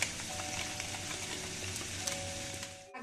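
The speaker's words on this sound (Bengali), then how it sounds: "এটাকে ভালো করে ফ্রাই করে নিচ্ছি" Chicken 65 frying in a pan after a teaspoon of chicken 65 masala goes in, giving a steady, close sizzle with small pops and a brief stirring scrape, and no one talking.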